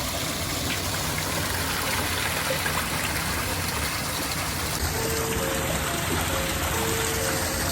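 Steady rushing water from a waterfall at a memorial fills the scene outdoors, a broad continuous wash with no pauses, joined near the end by a faint thin tone.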